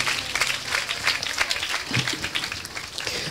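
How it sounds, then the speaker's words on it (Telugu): A church congregation claps together during a sermon, a short, dense patter of many hands at moderate volume, fairly even with no voices on top. "చప్పట్లు కొట్టి దేవుని నామాన్ని గణపరుద్దామా"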